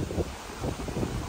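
Strong wind on a Boracay beach buffets the microphone, a low rumbling roar in uneven gusts that stays close and loud throughout.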